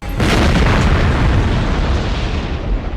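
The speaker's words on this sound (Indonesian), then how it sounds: "Dia akhirnya menembaki polisi tersebut sampai mobilnya meledak." A police car explodes after being shot at in the 2000 film American Psycho: a sudden loud blast followed by a heavy, sustained rumbling roar that slowly fades over a few seconds.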